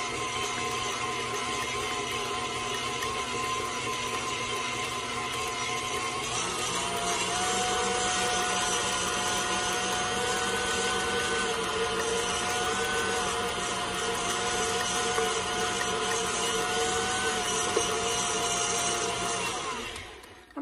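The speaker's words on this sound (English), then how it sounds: "Just on high, we're gonna blend this for about 2 minutes." A kitchen blender runs steadily on high, mixing pumpkin whoopie pie batter with sugar, a continuous loud whirring drone that shifts pitch slightly partway through and holds for about twenty seconds before cutting off.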